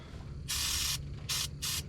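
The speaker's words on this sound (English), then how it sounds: "we're gonna hit it with a bit more of a spray" Carbon choke cleaner sprayed from an aerosol can in a truck engine bay, three hissing bursts of varying length separated by short pauses, close and loud.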